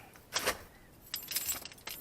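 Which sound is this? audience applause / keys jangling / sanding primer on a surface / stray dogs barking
keys jangling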